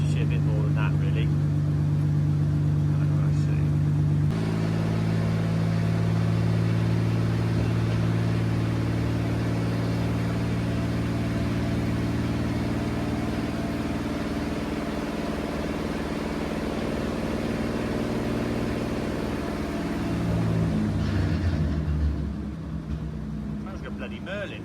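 A Chrysler Speedster engine running with a deep, steady, throaty drone that holds for around twenty seconds and then shifts pitch as the throttle changes near the end.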